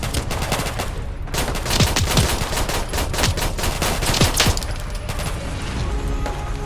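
Naval gun fire in Fallout 4's Nuka-World: dense, rapid bursts of loud shots crack repeatedly across the whole stretch over a constant noisy background, with no speech.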